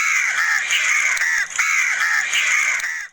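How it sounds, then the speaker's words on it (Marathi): Several crows caw loudly and harshly in repeated rapid bursts, up close, with brief pauses between volleys. "त्याबरोबर बाहेरच्या सगळ्याच कावळ्यांनी कर्कश कावकाव सुरू केली."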